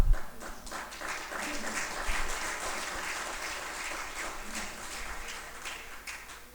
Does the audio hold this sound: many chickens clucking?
no